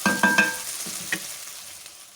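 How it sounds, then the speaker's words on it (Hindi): Tomatoes and onions frying together in a pan, a short burst of sizzle with three quick metallic clinks of a spoon against the pan at the start, then the sizzle fades. "इनको मैं प्याज के साथ ही फ्राई करूँगी तकरीबन 2 मिनट तक"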